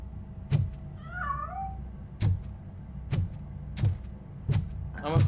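A cat meows once, a short rising-and-falling cry, amid regularly spaced heavy thuds in RoboCop: Rogue City, with another brief meow-like cry at the end.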